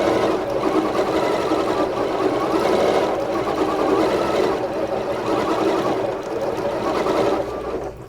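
A Janome sewing machine with an accurate stitch regulator runs continuously during free motion quilting, a loud, close, steady mechanical whir and rapid needle chatter that keeps going with no pause.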